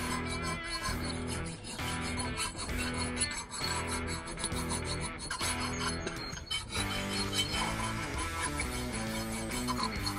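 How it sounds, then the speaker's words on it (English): A metal file rasping on a brushcutter fitting, steady back-and-forth strokes, close and loud for the whole stretch with no talk. "Just got to get this file, make some last minute modifications so that fits on there nice and snug"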